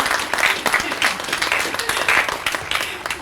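An audience at an elementary school ribbon cutting ceremony claps, dense close applause from a crowd with a few louder individual claps, continuing steadily throughout.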